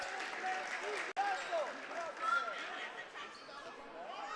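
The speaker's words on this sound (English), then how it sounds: "Loud, raucous crowd." Loud, raucous crowd at a boys' high school basketball game in a gym, a steady roar of many voices with shouts and squeaking sneakers throughout.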